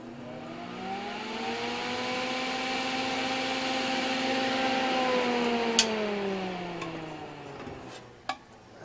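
An all-metal solder fume extractor fan runs on its high setting, giving a steady tonal whine whose pitch rises slightly and then sags near the end, followed by a couple of sharp clicks, with no talking.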